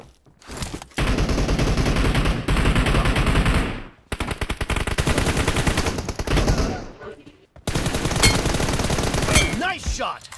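Bursts of rapid automatic gunfire in a team deathmatch video game match, loud sustained volleys broken by short pauses, ending in single shots and a sweeping effect.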